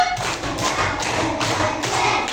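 Schoolchildren in a third-grade classroom clap a five-count rhythm in unison, a handful of crisp evenly spaced group claps ringing nearby.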